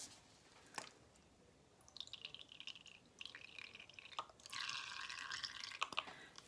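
Faint wet drips and squishy trickling of water into thick paint, in small irregular bursts against near silence.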